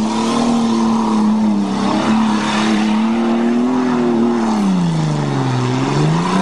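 A Toyota Cressida engine revs hard and continuously while mudding on a farm, its pitch wavering up and down as the car slides through mud, loud and close with no talk.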